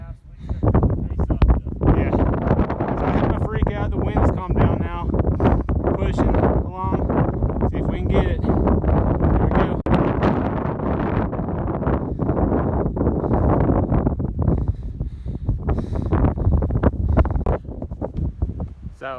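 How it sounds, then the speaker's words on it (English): Strong wind roaring across the mic on the Longs Peak mountainside, loud, gusty buffeting that never lets up, with a person talking underneath the rush. "The wind calmed down a little bit, but it's really bad."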